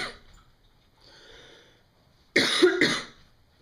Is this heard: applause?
no